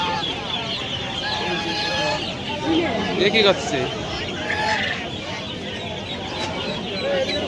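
Hens cluck and squawk throughout a busy poultry market at Media bird market, with people talking nearby over a steady crowd murmur.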